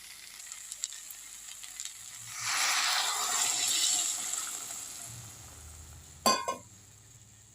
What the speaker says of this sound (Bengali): একটুখানি গরম জল দেবো এতে কষা হয়ে গেছে